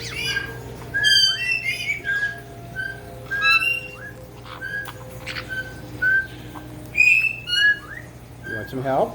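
Pet parrots indoors giving repeated bright whistles and short squawks, close and fairly loud, scattered in quick bursts over a low steady hum, with a brief voice near the end.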